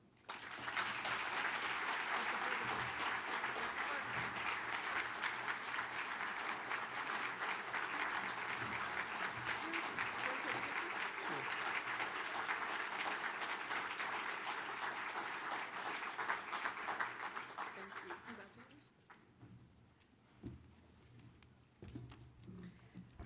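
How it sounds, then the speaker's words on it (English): A banquet audience applauds its honorees with sustained, dense clapping for about eighteen seconds, then the clapping thins out and fades to a few scattered claps. "Let's have a big round of applause for all of our honorees tonight"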